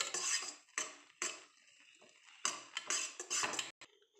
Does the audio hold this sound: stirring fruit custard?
yes